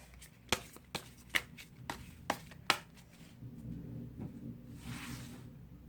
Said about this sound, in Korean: 4장을 뽑아보도록 하겠습니다.